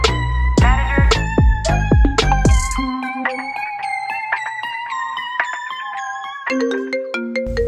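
Phone ringtone for an incoming call, a bright melodic electronic tune of ringing tones that opens with strong plucked notes, then carries on as a looping chime melody, alone without speech.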